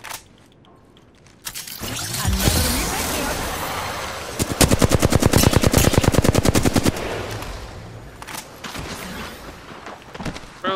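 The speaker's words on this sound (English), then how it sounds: "Bad boys are shooting at me." Gunfire rattles through an Apex Legends match: scattered shots build into a long, loud, rapid automatic burst of evenly spaced cracks, then trail off into a few isolated shots amid game noise.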